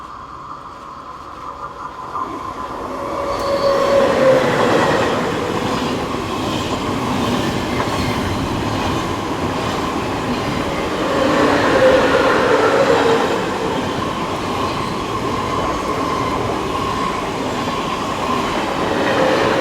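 A TGV high-speed train running from Paris to Nice passes a station in a loud, sustained rumble with rhythmic wheel clatter and faint squeal, swelling twice as the cars roll by.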